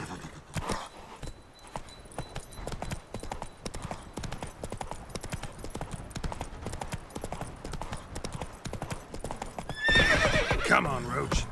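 Roach the horse in The Witcher 3, galloping with rapid, steady hoof clip-clops throughout, ending in a loud whinnying neigh under busy game sounds and some speech.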